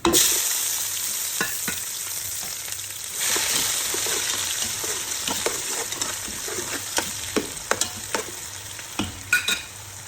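Onions frying in a pan and being stirred: a loud, close, steady sizzle with repeated scraping and clacking of a utensil against the pan, no talk.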